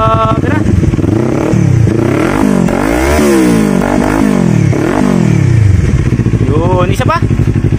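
Kawasaki Z400 with a Yoshimura R77 exhaust and no silencer, revved repeatedly, each throttle blip climbing and falling in pitch, very loud and close with a raw, booming tone and a voice heard briefly over it.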